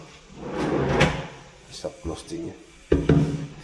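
Drawers of a UPVC modular cabinet in a newly finished home slide open and shut, with several short wooden knocks and a sharper thud near the end, heard up close while someone talks over them.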